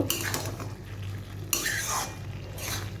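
A spoon stirs beaten egg and sugar into bottle gourd in a pan on a gas stove, giving a steady scraping and clinking that continues throughout, with a brighter scrape midway and no talking.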